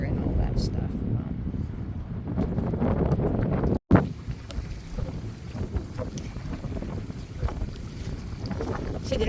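Dinghy tied up at a dock on a windy day, with constant wind rumble buffeting the microphone, water sloshing and a voice talking over it, plus a brief cutout midway.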